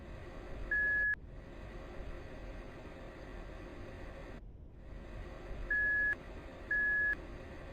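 Electronic beeps sound in a gaming setting: one steady tone, then two more spaced apart later, each lasting about a second over a quiet hiss.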